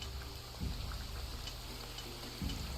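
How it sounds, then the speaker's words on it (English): Rain falls steadily in a video game, a constant soft hiss of drops with a couple of low thumps underneath. "Raining again."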